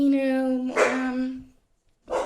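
A dog barks and whines in a few close, loud, drawn-out vocal bursts, with a short silence before a final yelp.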